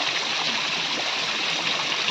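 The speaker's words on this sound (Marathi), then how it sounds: "हे वरचं पाणी खाली पडतंय" Dammed-up water spills down from above, splashing continuously close by, a steady broadband rush with no pauses.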